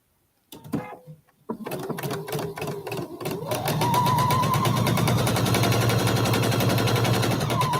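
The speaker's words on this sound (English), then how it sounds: "I have to sew the other side." A sewing machine stitches a quilt block, starting with a few short bursts and then running into a fast, continuous, loud mechanical rattle close by.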